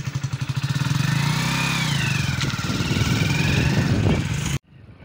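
A motorcycle is ridden close by on a fairly empty road. Its engine throbs with a rapid pulsing beat, then revs and holds steady before cutting off abruptly near the end.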